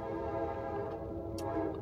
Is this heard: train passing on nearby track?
yes